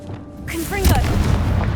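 A Confringo blasting spell goes off in Hogwarts Legacy, a deep booming burst swelling after a brief spoken incantation, followed by a sustained low rumble with no further speech.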